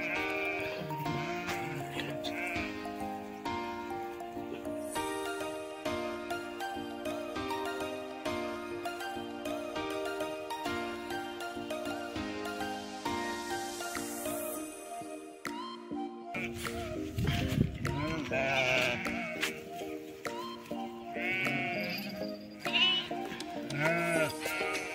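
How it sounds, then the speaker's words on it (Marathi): Goats in a Konkan village bleat repeatedly, their calls loud and close, with little else around them. "बकरी आल्या मी 6 वाजता सोडायची"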